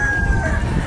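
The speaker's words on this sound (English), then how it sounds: "roosters are agreeing here" Rooster crowing outdoors near a beach where plein air painters work, a single drawn-out crow heard close and loud over steady low background noise.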